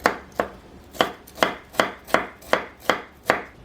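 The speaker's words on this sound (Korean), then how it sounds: "칼로 2~3번 왔다 갔다 하면서 다져주세요" A knife minces broccoli stems on a cutting board in a steady rhythm of about ten crisp, evenly spaced chops, close and clear with no talking.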